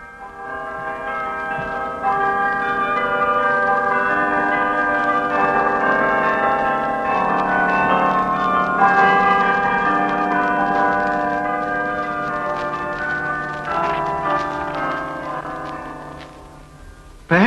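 Carillon bells of the New Zealand National War Memorial peal continuously in a dense, overlapping wash of tones, heard in an old 1953 Coronation Day recording.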